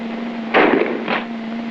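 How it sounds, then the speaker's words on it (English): Gunfire on a military skeet range, two muffled blasts about half a second apart, the first louder, set over a steady electrical hum as on an old recording. "That means there's firing going on."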